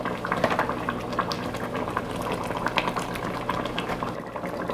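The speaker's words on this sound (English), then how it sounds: "Now this is simmering, we can start to add our tomatoes." Tomato soup simmering in a pot, a steady close bubbling and gentle liquid gurgle with small pops continuing throughout.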